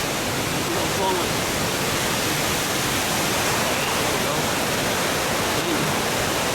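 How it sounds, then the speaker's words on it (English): A waterfall in wooded backcountry pours in a dense, unbroken roar that fills the whole clip, loud and close with no pauses or changes. "Let's see if we can see the waterfall here. It's a little flowing."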